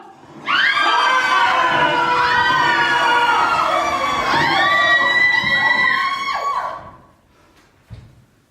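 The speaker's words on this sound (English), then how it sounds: "Women and children are screaming" A large crowd of women and children screams in panic at the Peterloo gathering, a loud, sustained wall of shrill overlapping cries that surges and then breaks off abruptly.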